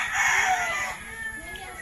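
A chicken crows once, a close, raspy call that starts strong and trails off over under two seconds, with low background noise beneath it.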